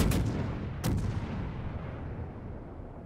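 Two heavy warship artillery salvos boom in the World of Warships naval game, the first at once and the second under a second later, each rolling out in a long, deep decay.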